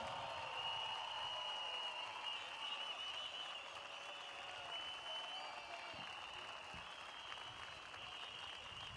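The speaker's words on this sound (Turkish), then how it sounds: "Cem Avşar'ı alkışlarınızla davet ediyorum." A large crowd at an open-air political rally in Bakırköy's Freedom Square applauds, a broad, distant wash of clapping with a steady tonal hum running through it and faint voices mixed into the sound.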